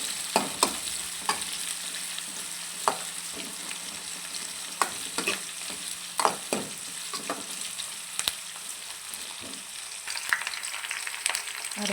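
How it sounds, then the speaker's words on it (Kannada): Sliced onions and curry leaves fry in a pan for a wild mango curry, with a continuous sizzle punctuated by repeated sharp spatula clicks as they are stirred. "ಕೆಂಪು ಬರೋ ತನಕ ಸ್ವಲ್ಪ ಕೈ ಆಡಿಸ್ತಾ ಇರಬೇಕು"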